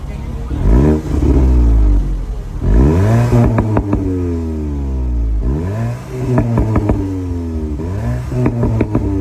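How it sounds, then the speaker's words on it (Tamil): A Volkswagen Golf GTI with a 265 BHP engine revs hard through its exhaust in three loud, close bursts, each climbing sharply in pitch before dropping back to a throaty idle. "இதோட எக்ஸாஸோட சவுண்டு கேட்குறீங்களா?"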